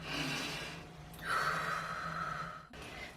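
Heavy, audible breathing from someone winded after climbing stairs: a sharp gasping intake, then a long, loud exhale, close to the microphone.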